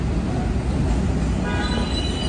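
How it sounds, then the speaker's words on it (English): A train pulls in on the opposite track of a station, a steady rumbling roll of wheels with a faint rising squeal, fairly close and heard alone without talk. "That's just one of the trains arriving on the opposite track."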